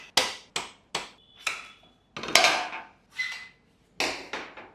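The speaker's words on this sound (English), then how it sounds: "use a rubber mallet to take the axle out" A rubber mallet knocks the rear axle out of a Royal Enfield Interceptor 650 during a service, in about nine sharp, close strikes with short pauses, the loudest two near the middle.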